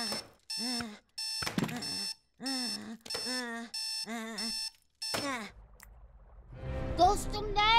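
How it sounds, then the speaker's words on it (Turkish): A cartoon alarm clock rings in repeated tonal bursts, about eight beeping pulses in a steady rhythm, followed by a noisier busy stretch, with characters speaking nearby. "Dostum, bu saat alarmı."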